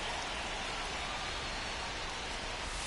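Steady rain falling in a baseball video game, a constant broadband hiss with no breaks and no voices over it.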